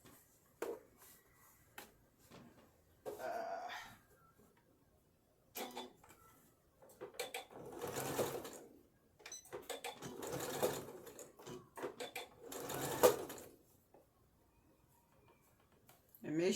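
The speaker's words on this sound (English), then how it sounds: "So now we're going to sew the right side of the fabric." A home sewing machine stitches a seam on fabric in short runs of rapid mechanical chattering separated by pauses. It is close and moderately loud, with someone talking quietly in between.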